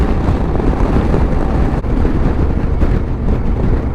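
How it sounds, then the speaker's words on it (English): Strong gusty wind buffets the rider on a 2025 Honda Africa Twin motorcycle, a loud, continuous roaring rush of wind noise with a brief dip midway. "It's very windy today, so I was getting blustered a little bit"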